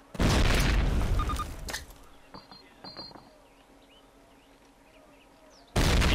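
Grenade blasts in Call of Duty 1 at a Camp Toccoa training ground, heavy booms bursting at the start and again at the end, with quieter clicks and scattered noises between.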